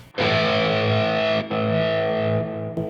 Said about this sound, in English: you'll hear it'll cut the guitar off for a second, and then it'll come back in with the delay